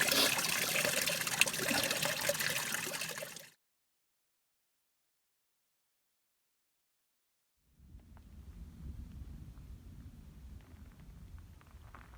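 Steady broadband water trickle at a stream on the Pacific Crest Trail, close and continuous, breaks off into silence for a few seconds, then returns lower and softer as a gentle babbling flow.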